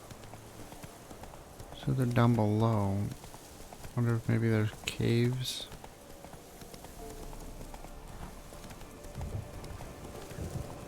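Horse hooves clip-clop at a steady gallop in Witcher 3, a quiet rhythmic thudding under a voice as he talks, with soft rain in the background.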